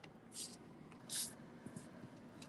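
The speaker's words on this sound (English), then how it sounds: "Oh, get my spray." A spray can sprays in two short hissing bursts, the second louder, with faint shorter puffs after, heard close in a quiet room.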